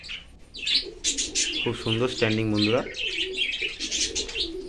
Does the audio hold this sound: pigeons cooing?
yes